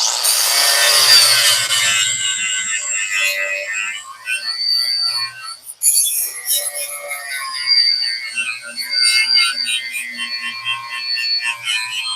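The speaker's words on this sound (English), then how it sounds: "You always got to use your gasket scraper." Gasket scraper dragging across a 1990 Jeep Wrangler engine part, giving bright, harsh metallic scrapes in repeated strokes, close to the microphone and with no talking.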